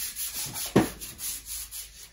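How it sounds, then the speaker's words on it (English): Sandpaper rubbed across wood: one firm, close scrape stands out in the middle of the clip, with softer brushing strokes around it and no talking. "I'm going to grab a piece of sandpaper."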